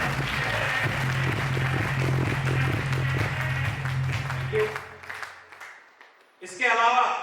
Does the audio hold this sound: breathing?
no